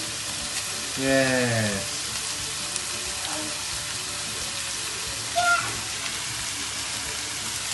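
Rice frying in a pan, a soft continuous sizzle under a child's brief word and a couple of short high squeaky sounds in a home kitchen.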